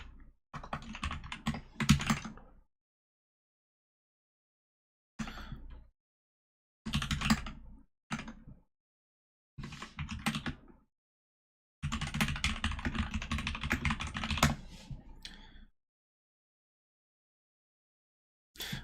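Bursts of typing on a computer keyboard, with clattering runs of keystrokes separated by pauses of silence, close and fairly clear with no talking.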